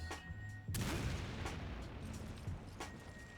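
Grenade blasts in the video game Resident Evil 5, a sudden loud boom followed by dense rumbling explosive noise and sharp bursts that continue close and heavy to the end.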